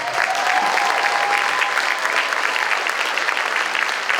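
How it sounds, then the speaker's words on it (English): An audience applauds at the Winton Woods Honors Diploma Scholars celebration, a dense, steady burst of clapping filling the room for several seconds. "Can I hear a round of applause?"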